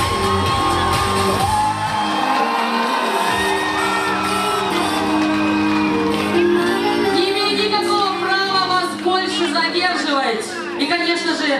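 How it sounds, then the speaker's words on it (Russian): A concert crowd at a show in Chernomorskoye, Crimea, in 2019 whoops and cheers loudly over ongoing music. The shouts and yells are dense and continuous, with some voices rising above the crowd. "Давайте все вместе, громкими аплодисментами."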